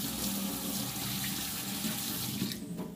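Water running from a tap while a finger is rinsed, a close, steady rushing splash of a faucet into a sink that continues and fades slightly near the end.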